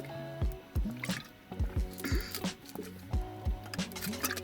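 Ice cold drinking water being sipped, with a series of wet sips, swallows and small liquid squishes in an irregular rhythm, close to the microphone and fairly clear, with no speech.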